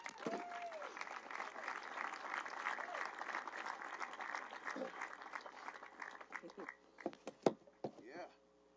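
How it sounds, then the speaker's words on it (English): A crowd at a sports park groundbreaking gives a round of applause that thins out into scattered claps and knocks, with voices and a brief tonal sound mixed in. "If you give him a round of applause."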